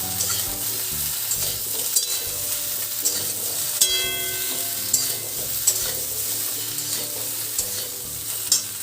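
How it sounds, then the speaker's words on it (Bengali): Chopped ridge gourd and other vegetables fry in a pan, a continuous soft sizzle punctuated by periodic scraping and tapping of a stirring spoon, close up with no talking. "এবার আমি সব ঝিঙেটা দিয়ে দেবো। দিয়ে আমি এই সবজিগুলো একটু ভালো করে ভেজে নেব।"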